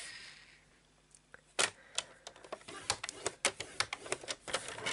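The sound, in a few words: scoring card folds with a paper trimmer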